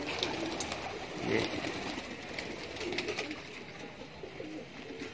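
Young pigeons coo softly in a loft while new fledglings are being flown, a low, burbling murmur with a slightly louder swell partway through and rustling nearby; someone speaks briefly.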